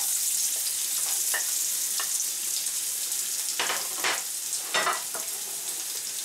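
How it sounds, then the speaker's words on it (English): Onions and cabbage fry in sunflower oil with a loud, steady sizzle close by, broken by a few scraping stirs near the end; no one speaks. "This is just fry until the onion starts to get shiny."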